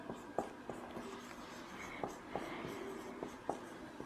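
A formula is written during a math lesson on the area of a square, heard as a quiet series of scratchy strokes with small taps in an uneven rhythm.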